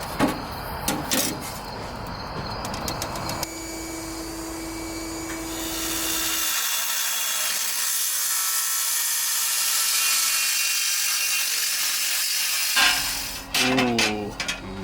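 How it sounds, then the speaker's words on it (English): A power tool cuts through a metal sheet while a bottom plate is being fabricated for a 300ZX build, a loud sustained grinding whine of several seconds, with brief talk and clatter before and after. "We've got our nice metal sheet that we're gonna chop up."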